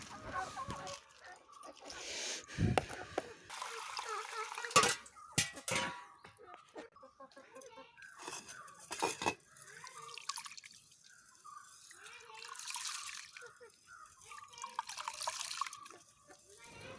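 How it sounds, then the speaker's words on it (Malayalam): Rice and lentils being washed by hand in water, with drips, splashes and swishing that come and go in irregular bursts at close range, while faint background sounds sit underneath. "ഈ പയറും അരിയും കൂടെ ഒന്ന് കഴുകിയെടുക്കാം നന്നായിട്ട് ഞവടി കഴുകിയെടുക്കാം"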